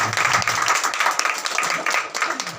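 A church congregation at a pastor's service claps loudly together, giving dense applause with some faint voices mixed in.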